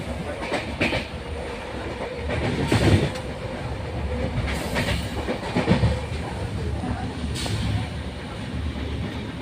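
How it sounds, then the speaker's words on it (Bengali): Steady rumble and clickety-clack of the Howrah–Amareswar Mail passenger train heard from inside a coach, with rail noise swelling in brief surges around the third, sixth and seventh seconds. "ট্রেনের বগিতে বসে আছি এখন।"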